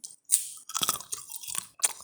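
Peanuts being bitten and chewed close to the microphone, a quick run of sharp crunches and crackling bites over about two seconds, with no talking.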